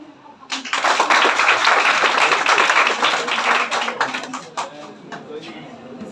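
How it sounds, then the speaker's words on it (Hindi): A crowd claps loudly for a student at a school toppers' award ceremony. The dense applause swells quickly, holds for several seconds and then thins out. "चंदन के लिए जोरदार ताली।"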